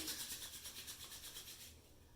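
Reuzel White Clay pomade rubbed between two palms makes a close, soft rhythmic swishing friction that pulses in quick strokes, then fades out near the end.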